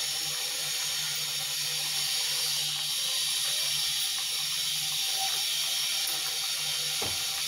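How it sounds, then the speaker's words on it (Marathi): Chakli dough spirals fry in hot oil over a medium gas flame, giving a steady, dense hiss and sizzle that holds evenly throughout, close and uninterrupted. "मीडियम गॅसवर चकल्या तळायचा, म्हणजे आतून कच्चा राहणार नाही व क्रिस्पी क्रिस्पी असा पण तयार होतो"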